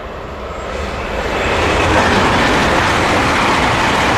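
A CrossCountry class train passes at speed on the fast lines of a four-track main line north of York, a loud, steady broadband roar that swells over the first seconds and holds, with no talk.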